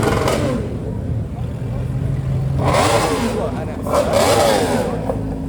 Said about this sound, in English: All the V8's starting up, bro.